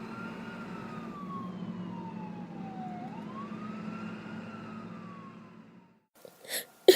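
A wailing ambulance siren sweeps slowly down and back up in pitch over a steady low rumble, fading out toward the end before a couple of short sharp noises.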